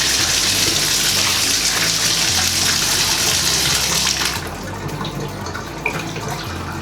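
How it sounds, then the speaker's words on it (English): Hot water gushes steadily from a tap into a tub drain, then cuts off, leaving a quieter trickle and faint drips. "And then I'll just run some hot water down there."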